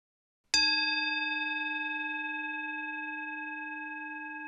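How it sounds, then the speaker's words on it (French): A meditation bell struck once to open a guided relaxation practice, ringing out with a sharp attack and a long, steady, slowly fading tone that sustains clearly with no voices. "après le retentissement de la cloche, qui vous signalera également la fin de la pratique"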